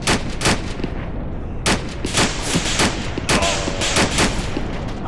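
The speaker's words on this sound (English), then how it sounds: "Who the fuck's shooting at me?" Video game gunfire crackles in loud, close bursts of sharp shots, a few quick strings and single cracks spread unevenly over several seconds.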